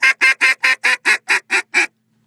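A duck call blown in a fast-cadence high hen sequence: nine quick, evenly spaced quacks, loud and close, ending abruptly with no talk.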